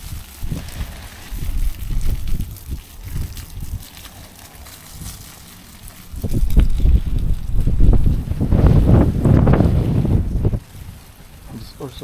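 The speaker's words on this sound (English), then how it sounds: "Also very, very windy." Strong hot wind buffets an outdoor microphone during plant watering, a continuous roaring rumble that surges louder midway, with no talking.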